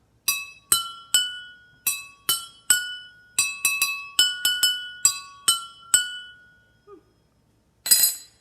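Drinking glasses holding three different water levels are struck one by one in a tune, about twenty bright ringing clinks in a lilting pattern at three pitches, with a pause near the end and a final louder clatter.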